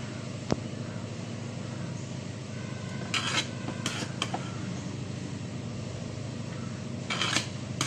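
Cooked rice tipped into a pot of egg biryani and stirred, with a few short clinks of a spoon or ladle against the metal pot over a steady low kitchen hum and soft scraping.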